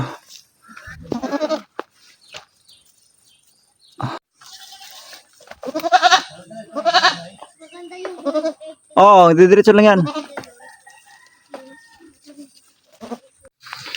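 Goats bleat loudly and close by on open farmland, several wavering calls spread across the stretch, while a person speaks briefly between them.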